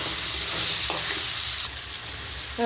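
Salted chicken pieces sizzle in a pot while being stirred, a steady close frying hiss broken by a few soft scraping stirs, with a brief musical tone at the very end and no talking.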